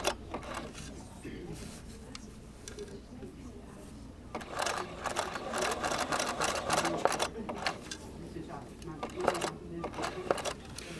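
Sewing machine running a straight stitch in a circle with silk ribbon in an embroidery hoop, a steady close rattling whir in stop-start bursts as the hoop is turned.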